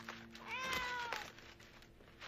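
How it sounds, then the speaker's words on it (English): Mushi, Peter's cat, gives a single drawn-out meow, close and clear, alone over a faint background. "you'll never guess who's inside here. His cat, Mushi."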